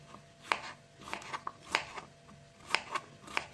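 A knife chops through firm unripe melon on a board in irregular sharp thuds, several cuts in a row, close and fairly quiet.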